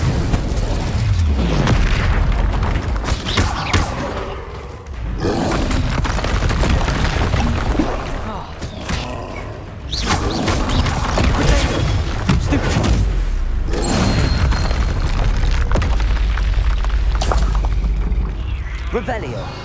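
The Incendio fire spell in Hogwarts Legacy is cast repeatedly, giving loud whooshing booms and bursts that recur through dense game effects, with a voice speaking over them.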